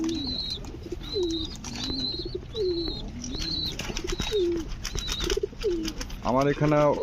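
A pair of Lakka pigeons coo in a steady, repeated rhythm of short rising calls, close and clear, before a person starts talking at the end.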